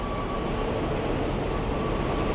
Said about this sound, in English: with the train passing above here